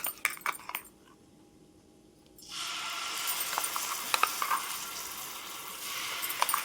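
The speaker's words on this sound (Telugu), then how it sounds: "ఈ పేస్ట్ ఇప్పుడు మనం పోపులో మగ్గనిచ్చుకుందాం." Tamarind paste dropped into hot tempering oil with cumin, mustard seeds and dried red chillies: a short clatter, a quiet gap, then a sudden steady sizzle with crackles and pops from the pan, and no talking.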